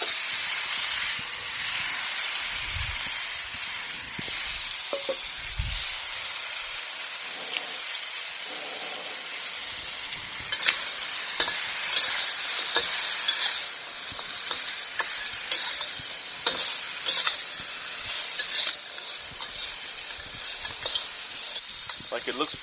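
Blue swimmer crabs fry in smoking-hot oil in a wok, giving a steady, loud hiss and sizzle throughout with occasional stirring clatter and low thumps, and no talk.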